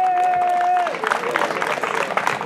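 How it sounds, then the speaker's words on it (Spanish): Crowd applause at a horse-racing club celebration in Flores, a steady roar of clapping and cheering with a sustained tone fading out early and a voice underneath, loud and close throughout. "Fuerte el aplauso, vamos arriba"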